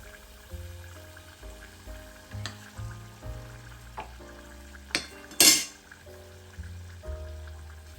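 Eggs frying in oil in a small pot, a soft sizzle under a series of clinks and knocks from pot and utensils, including one sharp scrape, with no talk.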